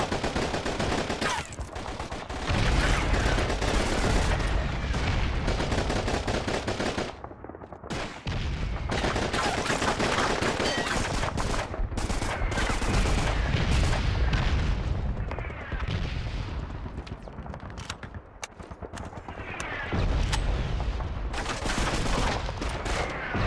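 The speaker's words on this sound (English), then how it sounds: "Suppress that machine gun!" Sustained battle din from the PS2 game Call of Duty 2: Big Red One: loud machine gun bursts and volleys of rifle fire mixed with heavy booms, repeatedly pausing and resuming.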